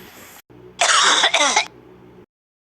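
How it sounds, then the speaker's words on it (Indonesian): A woman gives a single harsh cough or throat-clearing burst, loud and close, in two quick pulses with no talking. "tiba-tiba ibunya batuk dan sesak napas"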